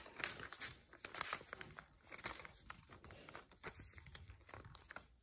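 Sheets of colored origami paper folded by hand at close range: soft crinkling and rustling in irregular bursts, quiet and unaccompanied by speech.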